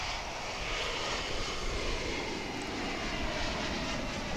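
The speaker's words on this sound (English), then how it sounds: "comes this Embraer 175 American Eagle flight" An Embraer 175 American Eagle regional jet airliner at DFW International Airport gives a steady, distant jet engine roar with a broad airy rush, heard alone without talk.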